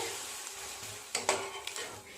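Slices of French toast dipped in milk and egg fry gently in butter in a pan over low heat. A quiet, steady sizzle runs throughout, broken by a few nearby scrapes and clinks of a turner against the pan.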